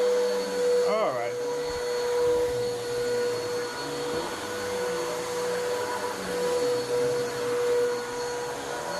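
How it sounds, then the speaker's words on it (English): A vacuum cleaner runs steadily through a house thick with dry soil, moving up a hallway in a loud, continuous drone with a brief bump early on; a person talks briefly over it. "As I was just going up the hallway, it was just already collecting dirt"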